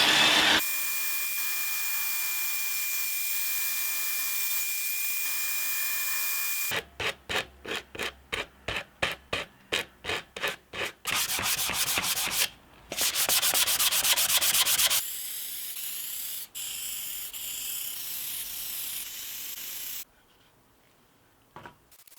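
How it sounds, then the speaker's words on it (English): A drill whines steadily for several seconds boring a cable-access hole in a light fixture, then breaks into a run of short rhythmic grinding bursts and rougher rasping passes before quieting. "I'm drilling the hole for the cable access"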